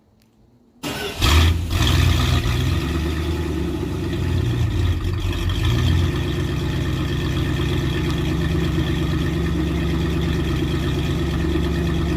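Cold start of a Dodge 318 V8 fitted with a Holley 350 CFM carburetor: after a moment of silence the engine cranks and fires, then settles into a steady, loud, lumpy idle that runs without pause to the end, with no talking.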